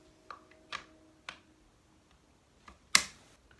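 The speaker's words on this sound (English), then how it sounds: "did you hear that actually snap together?" Plastic parts of a Vanquish VS4-10 RC crawler are pressed together close by in a quiet room: a few light clicks, then one sharp, crisp snap as they lock into place.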